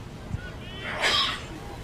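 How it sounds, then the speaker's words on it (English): A commentator at an NCAA Central Region baseball tournament game lets out one sudden, close sneeze partway through, muffled at first and then bursting loudly before fading under broadcast room noise. "Trying to hold that sneeze back, but I couldn't do it."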